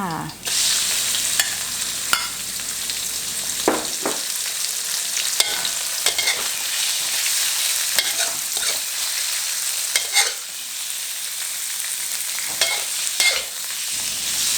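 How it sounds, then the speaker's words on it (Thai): Pork liver stir-fries with steady sizzling in a hot pan, occasional scraping and stirring strokes, loud and close, continuing without talk. "ผัดจนตับหมูใกล้สุกนะคะ"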